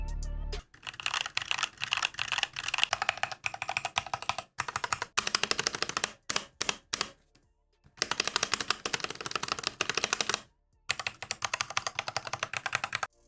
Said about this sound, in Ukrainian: Ось можна почути тайпінг коротенький.